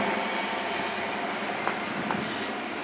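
A train runs through Newton Abbot station on the Great Western main line, a loud continuous rumble of wheels and carriages with faint clicks and a brief squeal, no voices.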